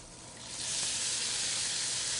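Rock shrimp hit a hot pan and sizzle, and the hiss swells quickly into a loud, steady frying crackle that continues unbroken with no talk.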